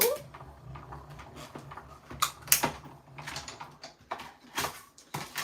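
A crafting die-cutting machine feeds a scalloped paper piece through its rollers, giving a close run of soft mechanical clicks, rattles and taps with a low motor hum underneath, a few sharper knocks standing out.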